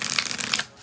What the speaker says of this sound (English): Let's just see how they shuffle.